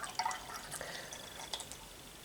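Cider poured from a bottle into a glass, a faint, close trickle and splash of liquid with a few drip-like glints, quiet and with no speech.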